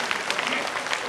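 Steady clapping from an audience at a stage show of Garhwali song, a short full round of applause with a voice faintly audible beneath it.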